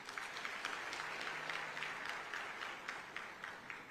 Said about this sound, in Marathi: टाळ्या वाजून अभिनंदन करा त्यांचं।